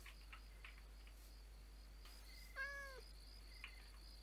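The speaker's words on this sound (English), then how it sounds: "I hear the cat." A single Minecraft cat lets out one clear, fairly close meow, with faint chirping like crickets around it in an otherwise quiet scene.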